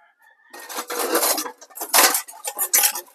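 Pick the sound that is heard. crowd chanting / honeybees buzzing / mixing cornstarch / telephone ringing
mixing cornstarch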